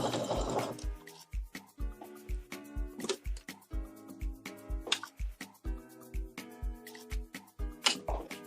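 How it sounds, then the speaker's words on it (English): A sewing machine stitches the bottom band onto a sweatshirt, its needle thumping in a quick, steady mechanical rhythm close by, with small pauses and clicks between runs and no talking. "We are sewing on the bottom band."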